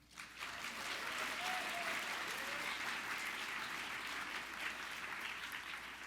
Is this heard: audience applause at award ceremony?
yes